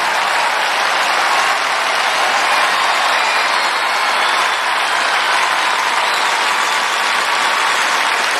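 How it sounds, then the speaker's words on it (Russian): Loud, dense audience applause at the Victoria music award ceremony in Moscow, a continuous wash of clapping from a large crowd that holds steady from start to finish. "Под ваши аплодисменты!"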